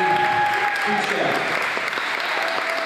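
A hall of fame ceremony audience breaks into steady, dense applause that fills the room throughout, loud and sustained, with faint cheering and voices mixed in.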